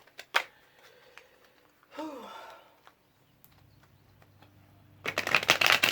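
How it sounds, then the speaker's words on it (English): Tarot cards are riffle-shuffled, with a quick flick of cards near the start and a longer, louder crackling riffle at the end, heard up close in a quiet room. "All right, one more shuffle."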